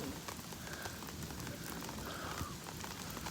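Heavy storm rain pours down steadily inside a storm-damaged garage where a tree has come through the roof, a dense, continuous roar of drumming water with no voices over it.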